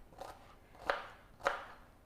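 Vegetables being chopped for a zucchini slice, three sharp knife strikes on a board spaced roughly half a second apart, close and clear with no talk.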